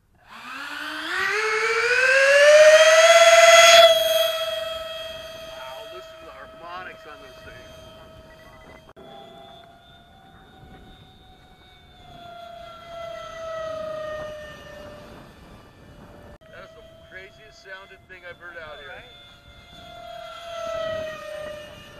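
Twin 56mm electric ducted fans on a model jet spool up into a loud, rising whine, then settle into a steady high-pitched tone at half throttle, with people talking over it.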